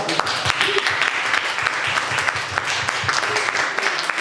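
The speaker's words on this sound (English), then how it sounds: "Round of applause for him" Audience applause at a film festival Q&A in New York: sustained clapping from a seated crowd, steady and fairly loud, with a few murmured voices beneath.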